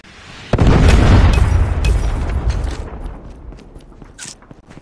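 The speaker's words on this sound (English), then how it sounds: "Predator missile inbound." A Predator missile strikes in the mobile shooter Call of Duty Mobile on the Nuketown map, a sudden loud boom followed by a long rumbling decay and scattered debris crackle, with no voices over it.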